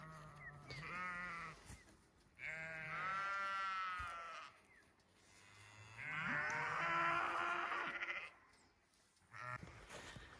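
Sheep and lambs bleat repeatedly at close range on a farm, in several long wavering calls separated by short pauses, with livestock moving about.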